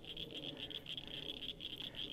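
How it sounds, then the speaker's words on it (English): Frogs croak outdoors during a fishing outing, a steady run of rhythmic, chirping croaks repeating close by for the whole stretch with no talking. "Frogs everywhere. Keep it down, frog."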